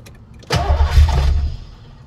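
A carbureted Ford Mustang Foxbody engine, converted from fuel injection and with a leaking carburetor, cranks and fires up close and loud in one quick start, then settles into a rough idle that fades slightly.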